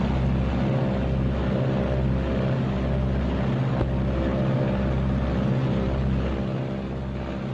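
Two B-26 Marauder piston engines run up together to about 1,800 RPM, producing a loud, steady, droning roar with a pulsing beat that holds throughout.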